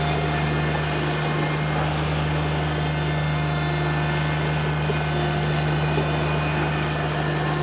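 A 2022 John Deere Z997R zero-turn mower's engine runs at a steady, even drone throughout, a constant mechanical hum with no speech.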